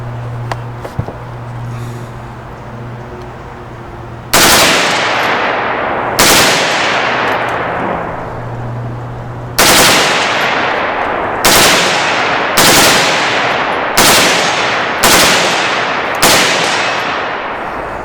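A close, loud M-16A4 rifle chambered in 7.62x39mm fires on an outdoor range. It rips off several short full-auto bursts with brief pauses between them, each burst trailing off into a ringing decay.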